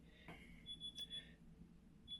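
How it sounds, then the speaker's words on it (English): A short electronic alarm tone from a FULLJA 17-inch digital photo frame beeps in brief high-pitched bursts, repeating a few times over quiet background hum. "That's what the alarm sounds like."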